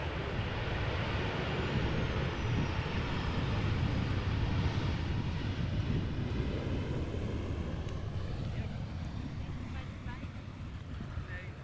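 Broad roaring rumble of an airliner landing at Amsterdam Schiphol Airport, heard from a distance with wind buffeting the microphone, steady and then slowly easing off.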